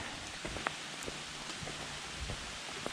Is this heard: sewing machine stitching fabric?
no